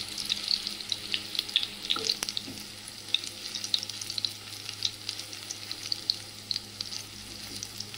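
Onion fritters (peyaji) frying in hot oil at home, a close, steady crackling sizzle with sharp popping bursts scattered throughout, heard alone with no voices.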